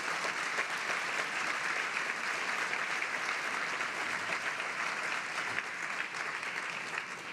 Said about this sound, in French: Ces applaudissements sont un encouragement à poursuivre sur cette route